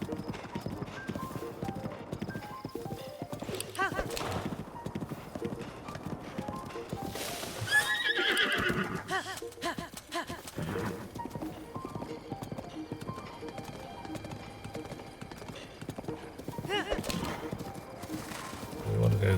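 A horse in Zelda: Breath of the Wild trots with rhythmic clip-clopping hooves and gives a loud neigh partway through, as a player speaks now and then over the gameplay.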